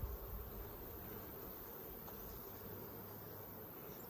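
Honey bees buzzing steadily around an open hive during an inspection of brood frames, a dense continuous hum close by with no talking.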